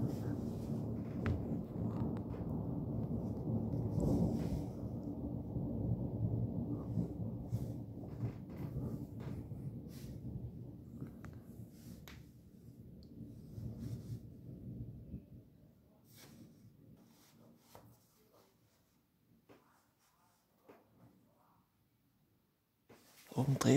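Strong thunderstorm over Bischofswerda with lightning strikes: a long, heavy rumble of thunder rolls and fades over about fifteen seconds, followed by quieter scattered crackles and patters outdoors.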